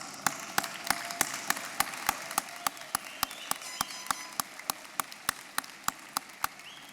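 Applause from a graduation convocation audience, heard as a distant, reverberant wash of clapping in a large hall, broken by a regular series of sharp, evenly spaced single claps that ring out above the crowd.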